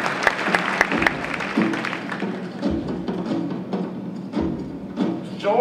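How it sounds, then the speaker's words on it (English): Audience applause at a samurai show in Blackpool, England: a live crowd clapping steadily for several seconds, dense and fairly close, with individual claps standing out and a few voices mixed in. "Applause, please, for Alan."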